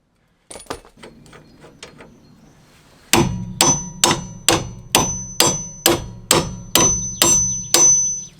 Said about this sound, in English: Then it's time to pull the hub by using a slide hammer.